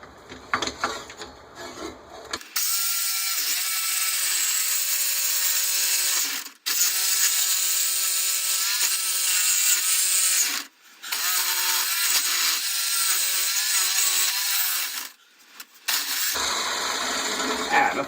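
A power tool cuts through a metal generator exhaust pipe in three long, loud, close grinding bursts with a rising and falling whine, separated by short pauses and quieter handling noise at the start and end.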